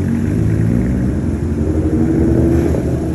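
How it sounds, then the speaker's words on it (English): Deep, steady exhaust drone from a lowered VW Golf MK4 GTI while driving, a loud, continuous low rumble with road noise and no speech. "Let me know what you think about my exhaust though."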